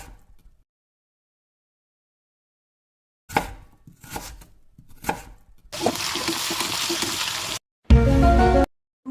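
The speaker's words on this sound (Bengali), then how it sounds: "আর একটু কেটে নেবো পেঁয়াজ" A knife chops onion on a board in several quick bursts of close, crisp strokes after a silent start, ending in a dense run of rapid chopping.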